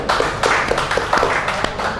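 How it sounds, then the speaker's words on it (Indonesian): Studio audience at an Indonesian discussion show claps in a quick, uneven burst of individual hand claps, fairly close and loud, with no talking over it. "Tepuk tangan dulu dong"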